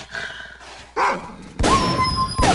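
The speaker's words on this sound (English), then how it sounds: "Ah, these dogs again." A dog gives several loud, close barks mixed with a whiny yelp, in short bursts separated by brief pauses, from a pack of dogs in the video game STALKER: Call of Pripyat.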